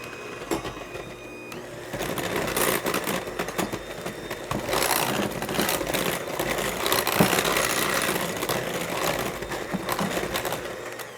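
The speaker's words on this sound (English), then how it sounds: "You don't turn your mixer on high when you're putting that cocoa powder in" An electric stand mixer churns chocolate drop cookie dough with cocoa powder, a continuous whirring motor hum with rattling beater clatter against the bowl, close and loud after a brief quieter start, no voices.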